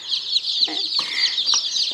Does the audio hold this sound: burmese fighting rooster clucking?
yes